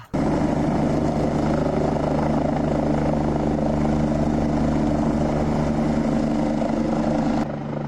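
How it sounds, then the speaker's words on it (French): A helicopter drones steadily and loudly overhead, its rotor and engine noise filling the whole stretch without letting up and cutting off abruptly near the end, with no voices. "comme vous avez pu le voir, petit tour hélicoptère, hôpital"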